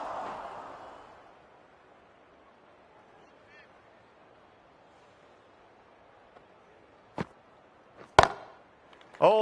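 A cricket bat strikes the ball hard for a six: a sharp woody crack stands out against a low crowd murmur, with a few more brief knocks close together just after.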